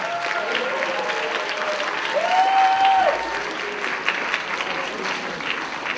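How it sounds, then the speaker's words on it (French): A convention crowd at a cosplay contest applauds the last group on stage, sustained loud clapping with cheering voices and a brief whistle-like tone rising above it midway. "Applaudissez-les énormément,"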